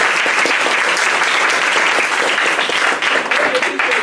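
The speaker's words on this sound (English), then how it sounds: "let's give our panel a round of applause" Dense, loud applause from a town hall audience for a panel fills the whole stretch, with some voices audible beneath the clapping.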